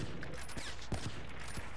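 Video game gunfire crackles as a dense, continuous burst of rapid shots, loud and close throughout the short stretch, with no talking.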